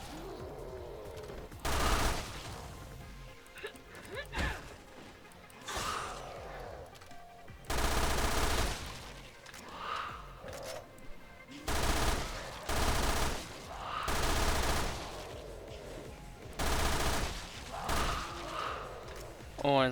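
Machine pistol SMG fire from Resident Evil Revelations 2 Raid Mode bursts out in loud, repeated rapid volleys, each lasting about a second with short gaps between, while someone talks at intervals.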